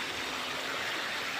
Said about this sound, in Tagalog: Grabe kusugas uwan ay.